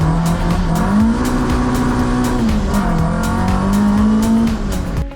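Classic cars driving in a three-car convoy that includes a Ford Capri, heard as a loud, steady engine drone close by whose pitch rises and falls with the gear changes, along with continuous road noise.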